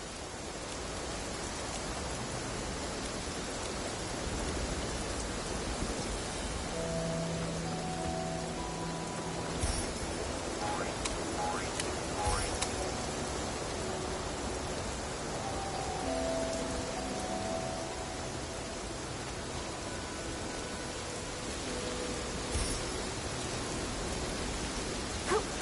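Steady rain pours without pause in the video game Infinity Nikki, forming an even, close wash of hiss with a few faint tonal notes drifting over it.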